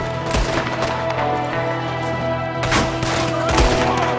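Gunfire in the video game Red Dead Redemption 2, with sharp repeated shots cracking out in irregular bursts over a dense, loud background of game noise.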